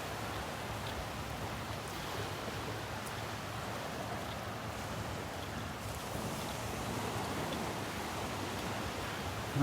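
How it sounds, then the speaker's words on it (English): Steady rain falling on the beach at Delnor-Wiggins on a gray morning, an even diffuse hiss mixed with soft surf wash, constant and fairly faint throughout. "Now that rain's just getting miserable."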